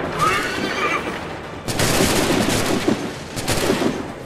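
Musket volleys crack out in Assassin's Creed 3's Battle at Lexington, two loud broadband bursts of massed gunfire rolling into smoky decay, with a faint horse whinny at the start.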